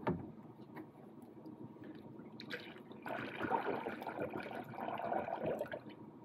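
Coolant concentrate pours from a gallon jug into the cooling system of a Jeep Grand Cherokee WJ, a soft, continuous trickling and glugging that swells louder in the second half, with no talking.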